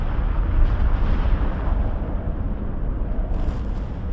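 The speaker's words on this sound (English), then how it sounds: "The sun erupted in a series of massive explosions called coronal mass ejections, or CMEs." A massive solar eruption rendered as a sound effect: a loud, continuous roaring rumble of explosions, dense and heavy throughout with a slight brightening near the end.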